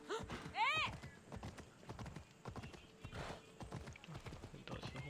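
Steady clip-clop of horse hooves trots along beneath talking in the video game Assassin's Creed Odyssey, with a brief whinny early on.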